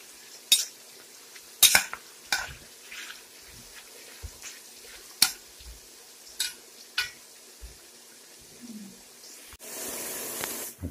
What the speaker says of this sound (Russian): Берем масло и перемешиваем.